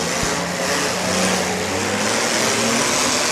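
Demolition derby cars at a live track event roar continuously, their engines revving loud and close in a dense, unbroken rumble with no voices over it.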